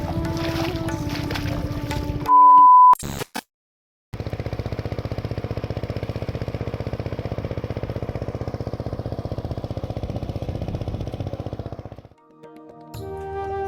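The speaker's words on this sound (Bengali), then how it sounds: "ওই দূরে চলছে পাওয়ার টিলারের শব্দ নিশ্চয়ই শুনতে পাচ্ছেন।" A power tiller ploughs a rice field in a Bengali village during monsoon planting, its engine a steady, loud rattling drone that holds for several seconds before fading, with other brief sounds before and after.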